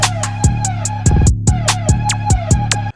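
A synth melody runs through a rhythmic volume gate pattern from the Gate 12 plugin, so the notes are chopped into choppy, pulsing stutters. A steady beat sits underneath, and the sound is loud with no voices.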